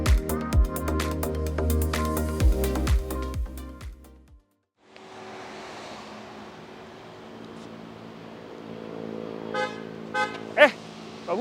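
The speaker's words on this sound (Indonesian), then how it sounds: "Berarti saya dipanggil oleh X7 ini karena kunci ada di saya, mesin nyala, dan saya meninggalkan mobil sekitar 5 meter" A BMW X7 xDrive40i with its engine running sounds its horn as a warning after the key is carried about five meters away: loud repeated honks and tones at first, then a steady idling rumble with a few brief beeps.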